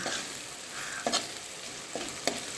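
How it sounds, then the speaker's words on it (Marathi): Garlic fenugreek curry stirred in a pan after garam masala and salt go in, a continuous sizzle broken by a few scraping spoon strokes, close and clear with no talk. "एक चमचा गरम मसाला चवीनुसार मीठ आणि पुन्हा मिक्स करून घेऊया"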